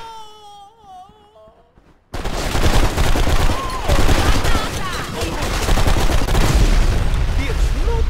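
A character speaks briefly, then gunfire erupts in the PC shooter BlackSite: Area 51, loud rapid bursts and sustained automatic fire with booming impacts continuing to the end.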